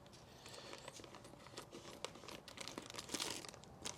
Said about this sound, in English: the bag that contains all those parts, and we just take the scissors